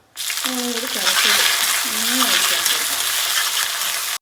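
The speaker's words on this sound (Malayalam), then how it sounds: "ഇനി അതിലേക്ക് ചെറിയുള്ളി വെളുത്തുള്ളി പച്ചമുളക്" Shallots, garlic and green chili hit hot oil in a frying pan with a loud, steady sizzle that runs continuously, with a few brief clinks at the start.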